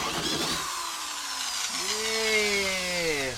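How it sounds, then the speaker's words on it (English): A power drill bores a hole for a camper van water tank, its whine rising and shifting pitch as it bites, fairly close over a few seconds. "Sometimes drilling a simple hole can take a bit of time,"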